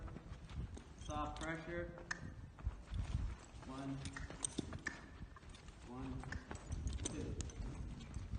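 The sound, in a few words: horse stepping its hind legs over, hoofbeats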